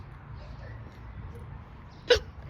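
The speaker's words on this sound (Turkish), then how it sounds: "Ay hıçkırık tuttu be." A single sharp hiccup near the end, close and abrupt, over quiet outdoor background noise on a nature walk near a children's park.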